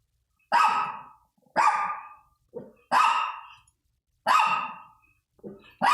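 A dog barking indoors at home, a series of about six loud, harsh barks at irregular intervals of roughly a second, some shorter and softer, close and without talk.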